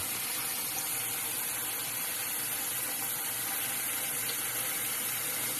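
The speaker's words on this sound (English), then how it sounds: "we're gonna put cold water in here just till it covers about 2 or 3 inches above where the chicken's sitting in the pot here" Cold water pours steadily from a tap into a cooking pot over raw chicken for stock, a constant, fairly quiet gushing rush without pause.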